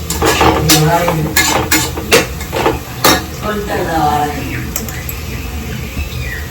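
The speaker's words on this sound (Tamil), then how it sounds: "இப்ப நல்லா வதங்கிச்சு பாருங்க இஞ்சி பூண்டெல்லாம் நல்லா வதங்கிச்சு" Ginger and garlic being sautéed in a pan at home, with sharp metallic clinks of a spoon scraping and tapping the pan over a low sizzle, while someone talks throughout.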